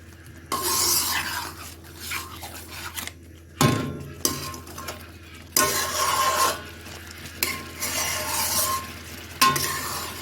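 Chicken karahi masala with plain yogurt cooks in a pan, stirred in repeated bursts of scraping and clinking against the metal over a steady low sizzle, with short pauses between strokes.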